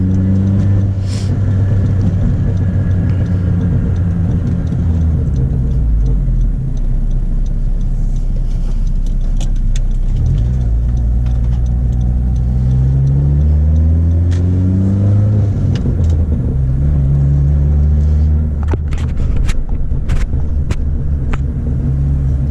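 A big-turbo Honda Civic FK7 Sport hatchback engine drones and revs loudly and steadily, rising and falling in pitch, with a few sharp deceleration crackles and pops breaking through near the end.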